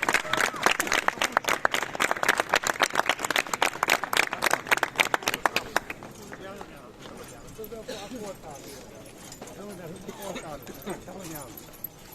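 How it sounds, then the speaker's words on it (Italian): Dense crowd clapping bursts out for the final participant at a street procession of the Cereo Pizzicagnoli up Via San Giuliano in Catania, loud and rhythmic for about six seconds before fading into crowd chatter and voices. "Un applauso per Bacciai, l'ultimo"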